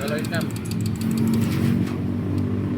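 A car engine with a very loose exhaust idles with a low, rough rumble and a faint rattle, close by and steady, while someone talks over it.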